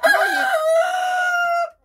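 A single loud rooster crow, close by, a long drawn-out cock-a-doodle-doo that stops abruptly, in a chicken coop with Marans hens.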